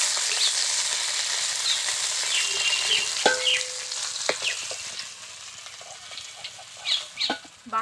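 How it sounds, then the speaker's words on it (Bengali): American rui fish pieces frying in hot oil until golden red, a steady close sizzle throughout, with a few clinks and scrapes of a utensil toward the end. "মাছগুলোকে একটু লাল লাল করে ভেজে নেবো।"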